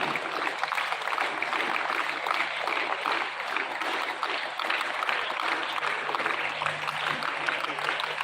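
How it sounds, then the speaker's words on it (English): An audience at a school's 75th Republic Day celebration claps during a bouquet welcome for a guest, producing dense, continuous applause that holds at an even level throughout with a faint hum beneath. "Keep clapping."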